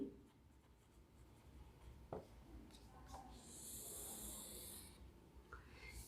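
A pen or marker writing numbers during an accounting lesson, heard as faint, soft scratching strokes in a quiet room with low background hiss.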